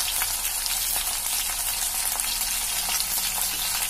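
Eggplant and curry leaves frying in oil in a pan for an eggplant pepper roast, a steady close hiss and crackle of sizzling with no talk.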